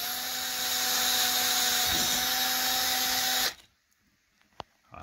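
Power drill boring holes into spin casting bait bodies, a steady high-pitched whine running continuously for about three and a half seconds before stopping abruptly, followed by near silence with a faint click.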